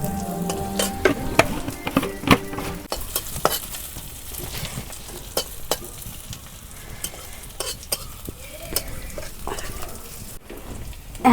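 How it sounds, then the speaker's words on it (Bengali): Panch phoron seeds crackle and sizzle in hot oil for tempering, a dense spattering hiss broken by quick pops and utensil clicks, with a voice heard at times. "বাগারের মধ্যে 5 ফোড়ন দিয়ে দিলাম।"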